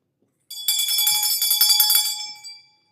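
A bell rings in a church during a Feast of Trumpets spiritual mass, a bright shimmering peal with sustained metallic overtones that swells for about two seconds and then fades out.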